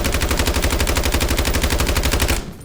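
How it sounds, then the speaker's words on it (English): Automatic weapon fire from a Call of Duty match, aimed at a sign: a rapid, evenly spaced burst of about twenty loud, close shots that stops abruptly near the end. "Basically, you're just going to shoot it, control the recoil as best you can."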